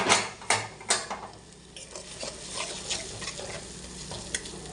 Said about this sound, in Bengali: এবার আমি টমেটো দিয়ে দেবো।